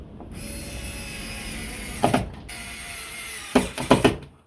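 Screws are tightened while a solenoid is installed in a Legends 4KP pinball machine: a steady low hum, then short bursts of ratcheting clicks and creaks, close and fairly quiet.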